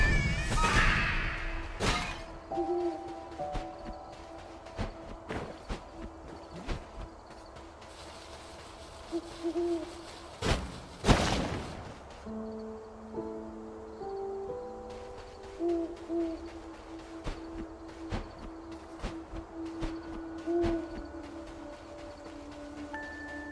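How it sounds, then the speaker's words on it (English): An owl hoots repeatedly at night in the video game Death's Door, with tonal hoots recurring over a sparse game soundscape of music notes and occasional loud hits. "That owl getting louder?"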